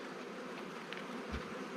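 Honey bees buzzing around a hive frame during honey harvest in Ukraine, a dense continuous hum, close and steady, with no voices.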